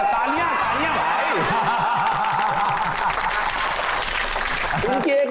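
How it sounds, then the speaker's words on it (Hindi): Studio audience applause for a visiting village poet on a Hindi TV comedy show, steady and fairly loud throughout, mixed with a host's voice talking over it. "तालियां तालियां भाई।"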